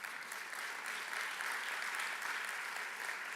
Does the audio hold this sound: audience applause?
yes